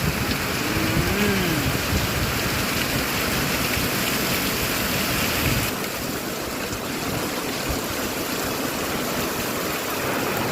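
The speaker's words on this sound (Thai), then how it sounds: "อากาศฝนตก" Rain falls steadily onto a flooded road, a loud, constant wash of splashing water with a faint whining tone early on.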